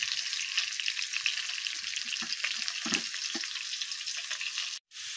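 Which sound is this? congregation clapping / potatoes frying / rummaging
potatoes frying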